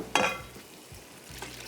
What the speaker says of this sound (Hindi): ग्रेवी के लिए मैंने यहाँ पे प्याज शामिल कर दिए स्लाइस किए हुए, और इनको हम करेंगे फ्राई